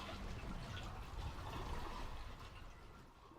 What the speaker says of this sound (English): Oh, it really sounded like a toilet flush.